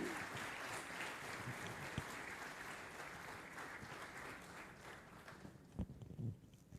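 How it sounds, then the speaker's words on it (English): An audience applauds a runner-up team at an AI challenge awards event, with a dense burst of clapping that thins and fades toward the end, leaving a few scattered claps. "Big round of applause for our 4th runner-up team."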